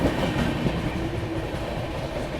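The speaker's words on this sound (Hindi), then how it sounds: "अपनी ट्रेन जो है गोविंदपुरी स्टेशन को स्किप करने वाली है" The New Delhi–Bhubaneswar Duronto Express runs through Govindpuri station near Kanpur, heard as a steady, close rumble of wheels with rhythmic clacking on the rails, and no voices.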